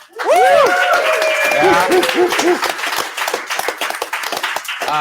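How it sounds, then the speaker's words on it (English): A loud round of applause and cheering from a packed office crowd, dense clapping near and filling the room, with whoops and voices riding over it before it thins toward the end. "Let's do a big, loud round of applause so everybody knows how many people are actually in here."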